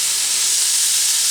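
Sliced vegetables hit a hot pan and sizzle with a loud, close, steady hiss that holds evenly for the whole short moment, with no talking over it.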